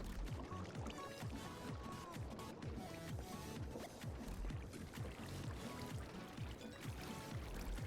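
Items churning in a Create mod washer in Minecraft, a continuous splashing, pouring water sound with steady rhythmic sloshing, moderately loud and unbroken throughout.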